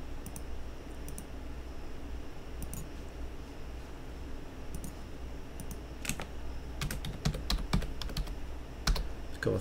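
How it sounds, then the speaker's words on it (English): Typing on a computer keyboard while entering text in SolidWorks 2016: soft, close key clicks come in quick irregular clusters over a faint steady room hum, with no talk. "Just going to type in here."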